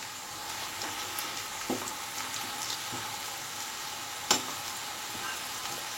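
Potatoes cut for French fries frying in hot oil, a steady faint sizzle with a few soft clicks and taps of a utensil, no voices.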